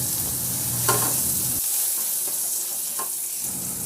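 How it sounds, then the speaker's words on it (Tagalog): Garlic sautéing in a pan, a steady close sizzle and frying hiss filling the whole stretch, with faint stirring scrapes and no voices. "Sa disim na kawali, igisa ko na yung bawang"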